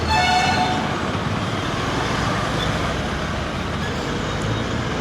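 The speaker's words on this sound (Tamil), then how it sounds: "ஜாஸ்தி டிராஃபிக் ஆகுது இந்த இடத்துல." Steady, dense roadway roar near the Hosur SIPCOT bridge construction site, with a horn blaring at the start over constant engine and tire noise from cars, buses and trucks.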